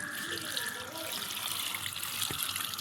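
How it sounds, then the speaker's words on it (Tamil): Running water splashes and gushes close by as broken crabs are rinsed, with a brief knock near the end. "இல்லையே நண்டை கழுவிடும் அலசி."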